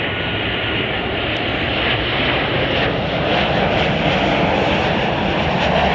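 Aircraft at Chicago O'Hare airport during the evening bank, a loud, steady engine roar that fills the whole stretch with little change, no voices over it.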